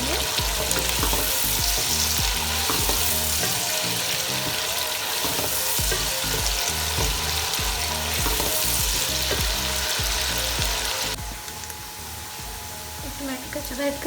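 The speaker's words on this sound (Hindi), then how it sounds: "बंद गोभी को ऐड करेंगे, अच्छे से मिक्स करेंगे।" Shredded cabbage stir-fried and tossed in a hot pan for chicken chow mein, a loud continuous sizzle with rhythmic scraping and clattering of the spatula, easing slightly near the end.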